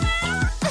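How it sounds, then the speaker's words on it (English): A cat meows loudly and close, several drawn-out cries with rising and falling pitch running together across the short moment, with no other sound around them. "A kitty."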